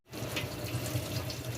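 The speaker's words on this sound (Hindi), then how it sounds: "उसके बाद इसे पानी के साथ वॉश कर लेंगे।" Water running steadily from a tap, splashing and rinsing a clogged catalytic converter, a constant close wash with no talking.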